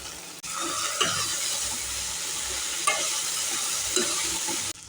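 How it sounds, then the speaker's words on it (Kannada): Okra palya with sambar powder fries in a pan under a loud, steady sizzle, with a few scraping stir strokes spaced out across it, close and with no talking. "ಇವಾಗೆಲ್ಲ ನೀಟಾಗಿ ಮಿಕ್ಸ್ ಮಾಡ್ಕೊತಾ ಇದ್ದೀನಿ."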